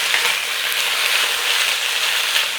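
Steady, bright sizzle of a chicken and cabbage stir-fry in a hot pan as Shaoxing wine hits it, a close, continuous frying hiss with no talking.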